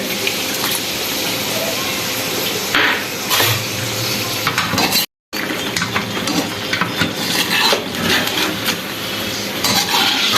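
Ginger garlic paste sizzles with chicken in a karahi, a steady close frying hiss with stirring clatter, broken by a brief dropout midway.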